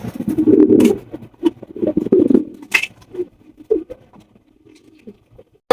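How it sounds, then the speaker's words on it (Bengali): White Danish pigeons kept in a loft make a few soft, low coos in short bursts, with light fluttering and rustling between them, close by and otherwise quiet. "এখানে রয়েছে একজন হোয়াইট কালারের ডেনিশ কবুতর"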